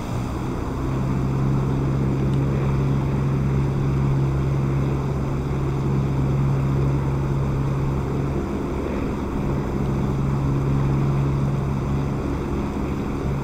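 Twin piston engines of a de Havilland Mosquito FB VI in the DCS World War II flight simulator, throttling up with a steady, droning hum and a strong low tone, continuous and close with no talk.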